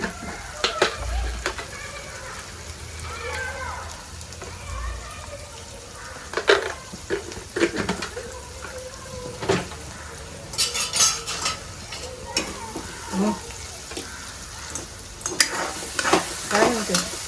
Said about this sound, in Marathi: ही डाळ परतली